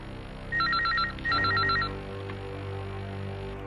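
A telephone bell rings in two short bursts of rapid trilling, each about half a second long and separated by a brief gap. It sounds close and clear, then gives way to a quiet room tone.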